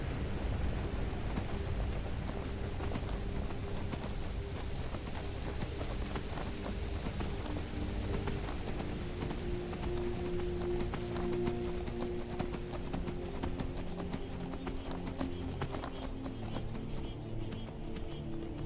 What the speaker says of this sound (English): I'll make haste the rest of the way. We're very close, and I'll put my horse away.